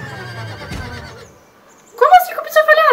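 A Shire horse in the video game Star Stable Online whinnies in a loud, high, wavering call, following a stretch of quieter game sound and brief talk.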